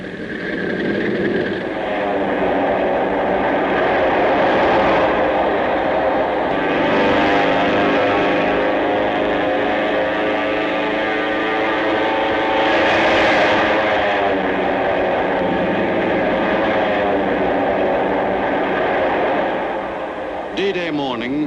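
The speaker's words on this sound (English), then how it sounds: "the carrier planes were readied for their last pre-invasion strikes" Carrier planes on D-Day of a Pacific war invasion roar as their engines run up for takeoff, a sustained loud droning that swells and fades, with a narrator speaking over it throughout.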